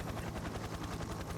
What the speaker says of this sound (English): Why is there a helicopter on top of my dialogue?